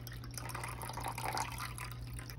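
Half a cup of water trickles into an apple cider vinegar gummy mixture of juice and vinegar, a faint, steady pour over a low constant hum.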